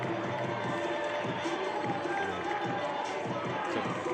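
A high school football crowd at a state playoff game, Independence at Butler, gives off a steady roar of cheering and chatter in the stands, heard from a distance.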